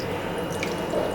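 Cold water poured from above over drained sago pearls sitting in a strainer, a steady close splashing trickle running without a break for the whole short stretch, with no voices.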